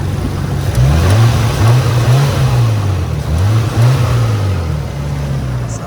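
A 1998 Bayside Blue Nissan R34 Skyline GTT engine running close by, its loud, steady drone rising and falling through repeated throttle revs.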